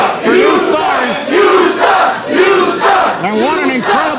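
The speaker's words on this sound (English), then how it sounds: "what an incredible crowd we have on here. Very loud, very opinionated" A loud wrestling crowd at the Berwyn Eagles Club chants and cheers in rhythmic waves, repeated call-like shouts rising and falling close up, dense and energetic with no commentary over it.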